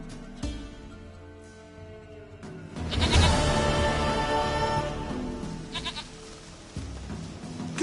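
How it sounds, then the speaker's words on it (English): Goat in The Witcher 3 bleating several times over a game soundscape, with a loud central bleat and quieter calls around it. "Goat of mine, dearest,"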